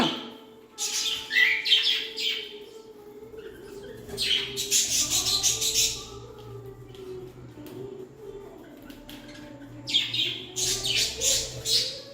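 Small baby parrots calling: faint bursts of chirping and squawking come and go in clusters over a low, steady background hum, fairly distant.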